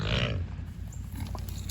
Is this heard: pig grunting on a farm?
yes